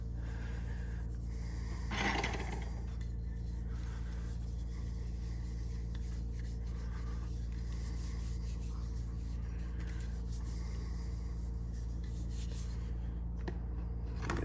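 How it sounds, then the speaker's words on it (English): A hand rubs finish into the wooden buttstock of an Ithaca Model 66 .410 shotgun, a faint, soft continuous friction sound under a steady low background hum. "I'm gonna rub this into the stock"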